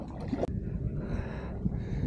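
A 5 HP outboard motor drives an inflatable fishing boat near an island, its low engine drone steady and close, mixed with wind buffeting and water noise.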